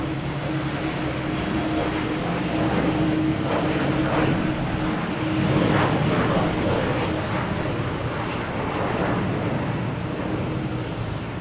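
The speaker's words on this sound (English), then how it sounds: "Here's a Delta E175 heading to LaGuardia" A Delta Embraer E175 jet airliner departs Boston Logan, its engine roar a steady broad rumble heard from a distance, with wind noise and no talk.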